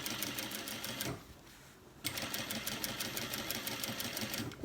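A sewing machine stitching a pocket on cargo pants, running in a fast steady mechanical rattle, pausing for about a second, then resuming at the same close, even pace.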